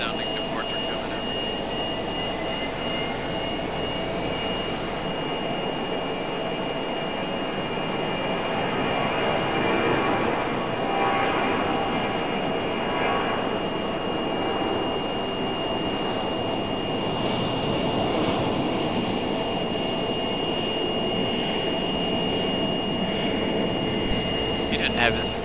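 An aircraft departing Raleigh-Durham airport gives a steady, loud broadband jet roar that holds for the whole stretch, with faint voices in the background.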